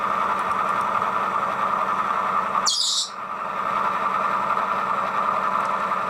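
Model railway Deltic diesel locomotive sound played through a small speaker as it slows, a steady droning engine hum with a brief high squeal burst midway, continuous and fairly loud with no talking.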